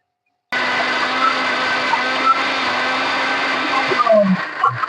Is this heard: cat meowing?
no